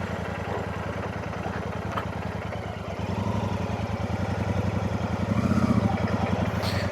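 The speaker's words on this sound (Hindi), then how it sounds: "बट मज़ा आ जाता है इन रास्तों पर बाइक चलाने में।" A cruiser motorcycle rides along village roads in Howrah district, West Bengal, its engine thumping in an even, rapid pulse that stays steady, then grows slightly louder and rougher midway.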